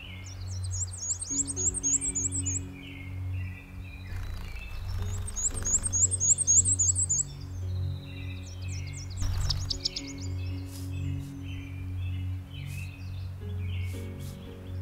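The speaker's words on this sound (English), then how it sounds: "lulled by the chirping of birds" Birds chirp on a spring morning in a northern wilderness, with repeated bursts of high, quick trills and tweets at moderate distance over a steady low hum of background ambience.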